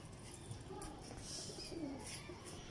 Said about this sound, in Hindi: ये ओरिजिनल टेडी कबूतर है दोनों कोने